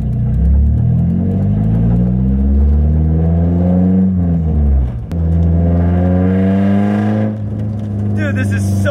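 Loud straight-piped Nissan S13 exhaust droning and rising in pitch as the car accelerates while driving, heard from inside the cabin with a brief dip near the middle, and a person talks over it.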